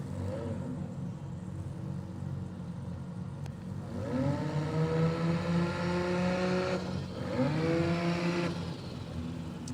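A Toyota Celica launches down a drag strip, its engine revving hard and rising in pitch twice in succession, loud and close against a steady background rumble.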